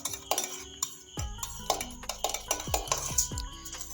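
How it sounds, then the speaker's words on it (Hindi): Egg mixture whisked in a bowl for egg bread, quick irregular clinks and scrapes of a utensil against the bowl, close and fairly soft. "हम इसे अच्छे से मिक्स कर लेंगे।"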